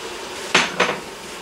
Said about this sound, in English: Now I can add my Sooji.